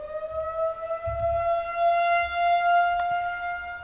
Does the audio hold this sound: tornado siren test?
yes